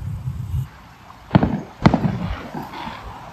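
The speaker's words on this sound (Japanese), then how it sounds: "あっち側では花火上がってるみたいです。" New Year fireworks in Kuala Lumpur bursting at a distance, two sharp booms with echoing tails over low rumbling street ambience.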